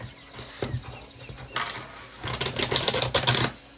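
A tarot card deck being shuffled in two quick riffles, crisp papery flutters heard close and fairly loud, the second burst longer and denser, with no talking.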